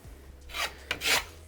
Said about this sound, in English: using the edge of the trowel, as you guys can see, it works better for me.